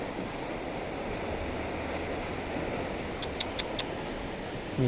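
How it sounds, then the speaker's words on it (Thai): A steady, broadband rush of falling water from Tad Fan waterfall near Paksong, Champasak, Laos fills the whole clip, constant and fairly loud, with a few faint clicks near the end. "น้ำตก"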